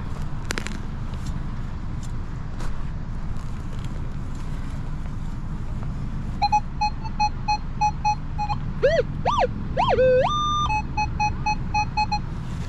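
A metal detector at a night dig sounds over a buried quarter, first as short repeated beeps, then as warbling rising tones and a steady high tone, heard over a constant hiss of background noise.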